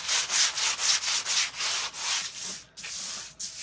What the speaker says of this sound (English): So I'm just going to lightly sand it.